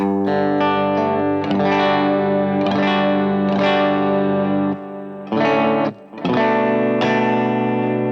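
A distorted electric guitar through a Quad Cortex plays chords and sustained notes with a light, short reverb tail, loud and close, with brief pauses between phrases.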